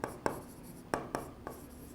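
Chalk or marker taps and strokes on a board during a physics lecture, with five or six sharp, short knocks at irregular intervals and quiet room tone between them.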